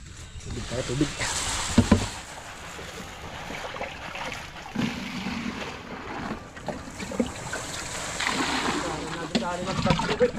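Water poured and splashing into a cement mix during concrete work, irregular sloshing bursts close by with people talking over it.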